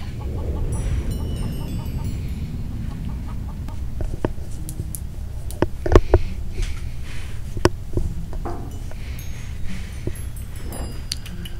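A chicken clucks in the Journey to the Moon video game, repeated soft clucks and short squawks scattered over a low background hum, one louder burst midway.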